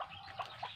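Native chicken chicks peep softly in a coop, giving three short, faint chirps over less than a second against quiet background noise.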